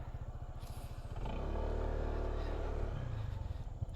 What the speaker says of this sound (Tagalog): May dumadaan ding motor.